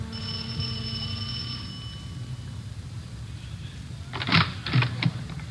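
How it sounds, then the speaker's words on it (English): A doorbell rings in a radio drama setting, a clear bell tone ringing out and fading over a couple of seconds, followed by a few soft knocking or tapping thuds near the end. "rang the doorbell"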